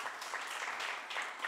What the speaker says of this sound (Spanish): Denle un aplauso aunque esté allí en los niños.